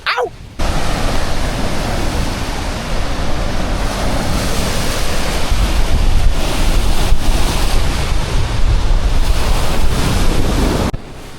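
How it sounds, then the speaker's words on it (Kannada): Gokak waterfall roars in a continuous, loud, broadband wash of rushing water, with wind buffeting the microphone throughout. "ಅದು ಯಾವ್ದಪ್ಪ ಅಂದ್ರೆ ಗೋಕಾಕ್ ವಾಟರ್ ಫಾಲ್"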